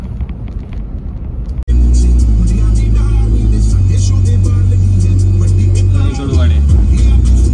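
A Maruti Dzire car crawls over a rough off-road track on a tilt, its engine droning in a loud low rumble that starts abruptly and holds steady, with voices talking inside the car.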